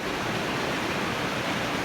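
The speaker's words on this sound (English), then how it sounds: "I'll show you the top of the waterfall, how it comes in." A waterfall on the Pine Creek trail in southwest Montana roars steadily, a dense, even rush of falling water that stays loud and unbroken throughout, with no voices.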